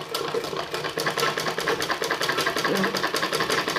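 A sewing machine stitches a baby vest, a loud steady rapid whir with a fast repeating pulse, running continuously and close up.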